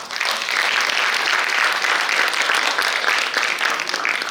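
Sustained applause from a theatre audience after a Hindi drama performance about Laxmi Bai, dense and even clapping throughout, loud and close with no talk over it.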